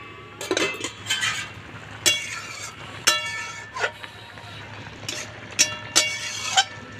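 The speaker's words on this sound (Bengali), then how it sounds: "2 মিনিট বাদে ঢাকা খুলে দিচ্ছি।" Metal pot lid lifted off a pan of lau shak posto, with several sharp clinks and clatters of cookware spaced across a few seconds.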